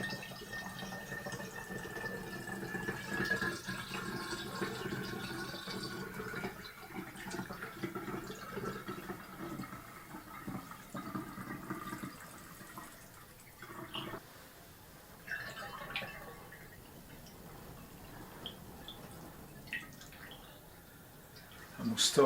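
Filtered water is poured through a funnel into a sterile bottle, a soft, continuous trickle and splash lasting many seconds at low volume while a person talks over it.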